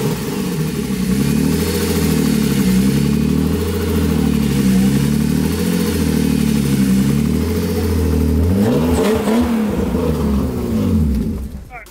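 A BMW E36 engine runs steadily after a hard start, its rough idle rising and falling in repeated revs, with a bigger throttle blip near the end. It is loud and close, and indistinct voices come faintly underneath.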